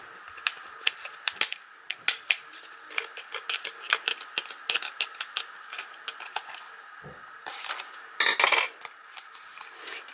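Scissors snip excess paper from a handmade greeting card, a fast run of crisp, close cuts with a few louder rustles of paper being handled near the end.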